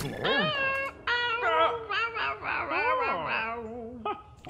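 A cat meows repeatedly in a long, varied, sing-song series of drawn-out, wavering calls, close and fairly loud, with brief pauses between them.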